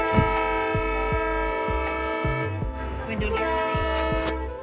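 A loud train close by, with a steady horn-like tone held throughout over regular rhythmic clacking.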